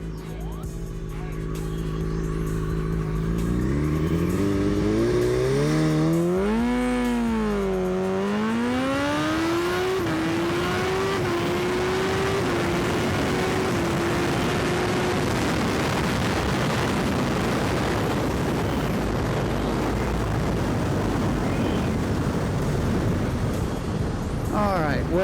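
A car engine starts and revs hard through rising, falling pitch sweeps during a test run after spark plug maintenance, then settles into a loud, steady running drone under rough mechanical noise.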